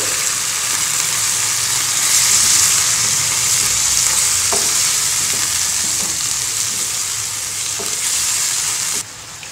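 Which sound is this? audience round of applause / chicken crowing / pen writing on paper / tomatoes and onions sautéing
tomatoes and onions sautéing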